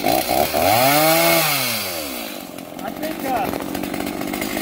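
Stihl chainsaw with a freshly sharpened chain cutting through wood, close and loud: the engine revs up, then its pitch sags as the chain bogs into the cut and settles into a rougher, rattling drone.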